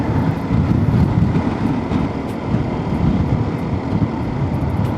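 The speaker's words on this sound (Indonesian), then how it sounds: "ini anginnya lumayan kencang nih" Strong wind roars steadily over a moving microphone during a motorbike ride through the Puncak hills between Bogor and Bandung, a dense low rumble that stays loud and unbroken throughout.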